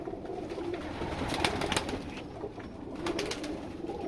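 Lal Pari breeding pigeons coo steadily close by, soft throaty calls repeating over a low background murmur with no talk.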